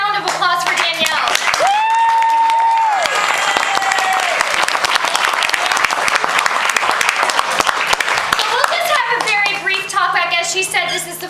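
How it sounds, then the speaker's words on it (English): An audience bursts into sustained, dense applause for dancer Danielle Quisenberry at a post-performance talk-back, loud and continuous throughout, with voices speaking over it at the start and end. "let's give a big round of applause for Danielle"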